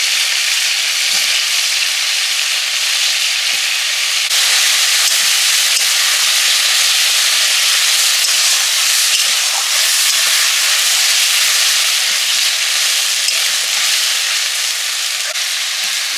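Potatoes frying in spiced oil for a snakehead fish curry with ridge gourd, a loud, steady sizzle and hiss that runs unbroken throughout, with no voices over it.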